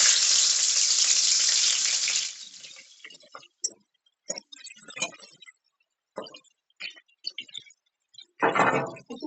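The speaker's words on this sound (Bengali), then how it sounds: "তো তেল গরম হয়ে গেছে, এর মধ্যে রসুনের কোয়া আর শুকনো লঙ্কা দিয়ে দেবো।" Garlic cloves and dried chillies hit hot oil with a loud, hissing sizzle that quickly dies down, followed by scattered clinks and small kitchen clatters and another brief burst of sizzling near the end.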